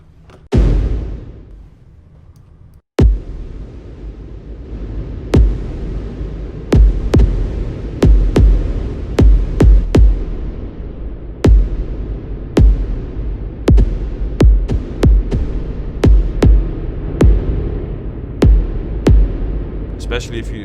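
A hall kick drum treated with Valhalla Room reverb thumps loud and deep in a long series of booming hits. Each hit trails a roomy tail, and the hits come quicker toward the end.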